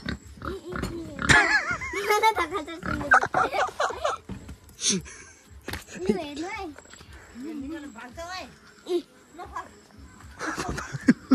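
Pigs grunt and snort close by in a pen in short, irregular bursts while people talk and laugh over them.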